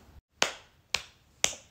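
Three sharp, close hand claps ring out alone, evenly spaced about half a second apart, each with a quick decaying tail.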